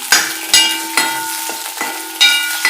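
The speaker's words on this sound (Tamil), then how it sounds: "காரத்துக்காக ஒரு பச்சை மிளகாய் இப்போ இதை கொஞ்சம் வதக்கி எடுத்துக்கலாம்" Onion and green chilli sautéed in a pan for a bachelor-style sambar with no dal or vegetables; a close, steady sizzle broken by about six rhythmic scraping stirs, no voices.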